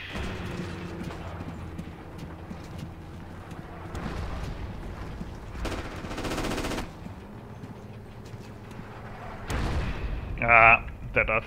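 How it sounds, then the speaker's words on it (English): Artillery shells and gunfire crash through a Forgotten Hope 2 multiplayer battle on Mount Olympus, with heavy booms and rattling shots in bursts over a steady rumble, the loudest blasts arriving near the end while players talk over the din. "That artillery just completely hit that guy."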